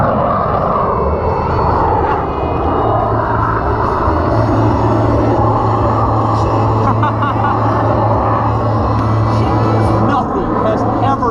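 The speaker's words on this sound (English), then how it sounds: "we are making air show history with your 3-time national aerobatic champion, Jeff Berman, and the amazing Yak-110." A Yak-110 aerobatic propeller airplane drones steadily overhead at an air show with a sustained engine tone, fairly loud and continuous, over a background of crowd and wind noise.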